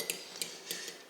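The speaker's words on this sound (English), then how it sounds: "So you just stir that together with a fork" A fork stirs egg with half and half in a bowl, giving four light, crisp clinks against the side at a steady rhythm, close and quiet, with no voices.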